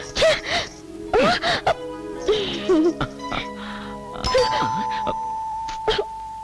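A house doorbell rings with a clear electronic chime, heard alongside people talking nearby in a home.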